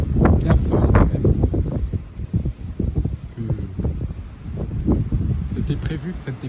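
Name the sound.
strong gusty wind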